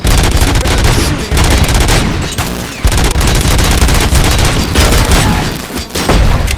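Robot enemies in Robocop: Rogue City firing heavy automatic weapons, a loud, relentless barrage of rapid gunshots and booms with brief gaps, close and dense throughout.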